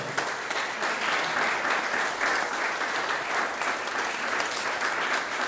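A church congregation at a missions service applauds steadily, a dense even wash of many hands clapping at moderate loudness throughout, with no voices standing out.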